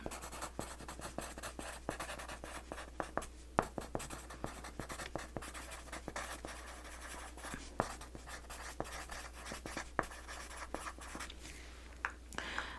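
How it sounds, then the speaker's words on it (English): A pen scratches across paper, writing out notes on thrift-store magazines in short, steady strokes with frequent small taps, close and quiet with no talking. "I'm gonna go ahead and write this down."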